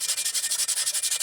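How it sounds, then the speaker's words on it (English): Rapid rhythmic back-and-forth sanding of rust off vinegar-soaked, greasy metal, close and steady with about a dozen even strokes, hissy and abrasive, no voices. "we're about finished sanding all the rust off"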